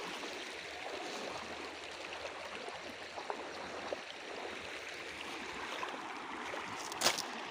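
The Kabini river flows steadily by its bank, a soft, distant, even wash of moving water with no voices.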